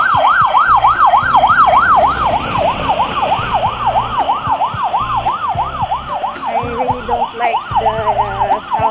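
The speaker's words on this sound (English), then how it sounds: "Sounds of the ambulance." A loud ambulance siren wails in a fast, regular up-and-down sweep, close by, with traffic rumbling underneath.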